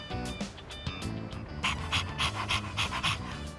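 A dog pants rapidly and steadily in the Persona 3 Reload video game, close and clear, the quick breaths speeding up in the second half with a few soft snorts.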